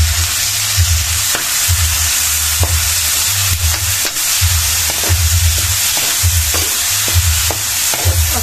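Pinakbet vegetables with pork and shrimp paste are stirred in a sizzling pan, a loud, close frying hiss with a repeated rhythmic scrape and clack of the spatula every second or so.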